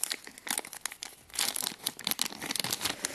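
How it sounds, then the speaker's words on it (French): Plastic film is peeled and crumpled off a whipped cream pouch, a close, continuous crinkling and crackling with bursts of sharper rustles and no talking. "Donc vous allez en fait l'enlever de son film plastique."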